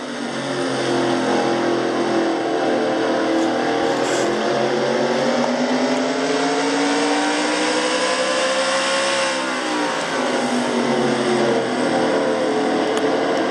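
A Chevrolet stock car engine roars from an onboard camera during a Goody's Fast Pain Relief 500 race, a loud continuous drone whose pitch dips and climbs again as the car slows and accelerates.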